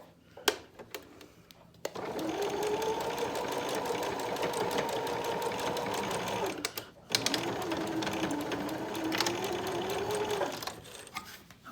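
A sewing machine stitches a fabric face mask with a pocket for a filter, running in two long steady bursts with a short pause between, close and fairly loud.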